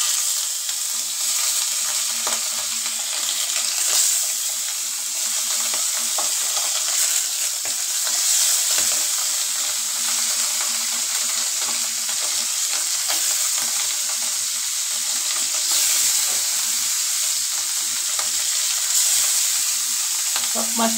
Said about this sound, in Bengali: তো মাছ বসানোর জন্য ফ্রাই প্যানটা বসাই দিছি, মাছ ভাজার জন্য আর কি